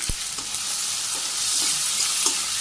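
Sliced potatoes fry lightly with onion in a pan, seasoned with a little salt and turmeric, in a village kitchen in Bangladesh: a loud, close, continuous sizzle broken by a few soft stirring knocks.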